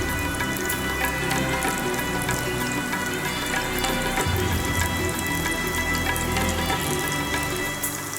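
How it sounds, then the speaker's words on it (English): Tofu slices frying in hot sesame and vegetable oil, a steady dense crackle and hiss of spitting oil that runs without pause, fairly loud and close, with no voices. "once the oil is hot, we're going to add our tofu slices"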